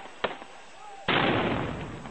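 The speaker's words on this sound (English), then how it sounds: "He fires 3 shots." Gunshots and a suicide bomb blast at Benazir Bhutto's outdoor political rally: a sharp crack, then a loud broad explosion that roars on, with crowd noise underneath.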